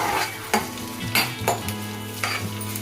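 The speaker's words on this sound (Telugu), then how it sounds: "తర్వాత పచ్చిమిర్చిని బాగా వేయించుకోవాలి." Green chilies fry in hot oil, a close, steady sizzle broken by several sharp scrapes and clinks of a spatula stirring the pan.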